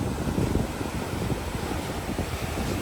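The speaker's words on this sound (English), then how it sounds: "I want to see if I can capture a really, really big splash for y'all from the waves." Ocean waves surge and splash as they funnel through an open channel in the rocks, a loud, continuous rushing wash mixed with gusty wind noise on the microphone, with no voices.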